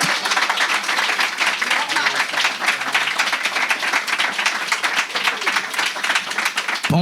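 Loud, dense applause from a concert audience in a Paris venue, continuous crowd clapping filling the space close up, with some voices mixed in and an abrupt stop at the end.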